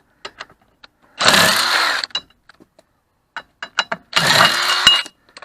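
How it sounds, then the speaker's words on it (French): An impact wrench works the wheel nuts on a Peugeot 206 HDI in two loud, close, rattling bursts of about a second each, with small metallic clicks and clinks in the quiet gaps. "Cette clé à choc, elle est bien, elle fait du taf, mais pas à ce point là"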